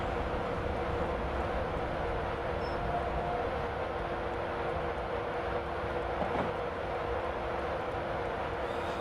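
An Intercity Class 91 electric train running on the West Coast Main Line North in Train Simulator 2016, giving a steady, loud rumbling drone with rail noise that holds throughout, with no talk over it.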